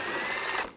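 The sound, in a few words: ratchet unscrewing a headlight screw with T30 socket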